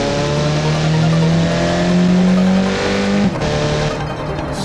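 An F1 car fitted with a turbocharged 1.9 TDI diesel engine accelerates away from a slow start. Its loud, steady engine drone climbs in pitch, heard up close, then dips briefly and carries on at high volume.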